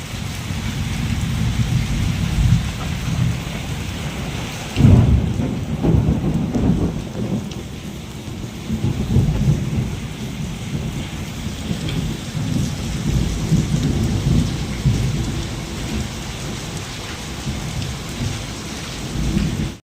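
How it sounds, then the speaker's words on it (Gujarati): Heavy rain pours steadily in Bhavnagar, and a deep rumble of thunder rolls in partway through before fading back under the downpour. "ભાવનગરમાં જોરદાર વરસાદ પડે છે, વીજળી પણ થાય છે"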